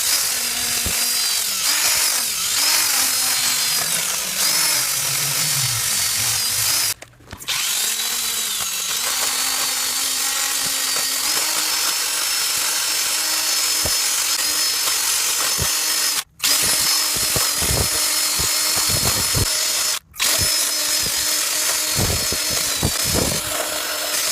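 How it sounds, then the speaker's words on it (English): A power drill with a wire brush scours carbon buildup from the intake manifold of an Audi 3.2L FSI engine, a loud steady whirring grind that runs almost continuously, broken by three brief pauses. "now we take our little drill with a little wire wash or a brush and start scraping the sides of the intake panel"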